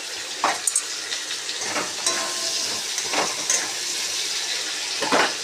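Tomatoes frying in a hot pan give a steady, close sizzle with crackling and a few brief stirring scrapes, during a rushed home cooking session.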